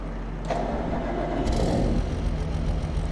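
Tractor engine in the Farming Simulator video game starting up, then settling into a steady low rumbling idle that persists alone throughout.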